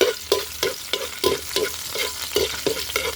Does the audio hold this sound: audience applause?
no